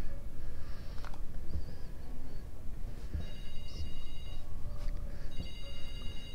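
A telephone rings in the VR video game Doctor Who: The Edge of Time, a repeating electronic ringtone over a low steady game ambience, with occasional soft clicks and no speech.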